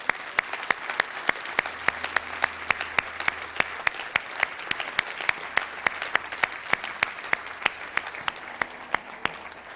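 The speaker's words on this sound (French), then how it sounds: "Est-ce qu'on peut applaudir ceux qui prennent une décision pour le Seigneur?" A church congregation claps in a steady, regular rhythm, sharp individual claps standing out over a continuous bed of applause for nearly ten seconds.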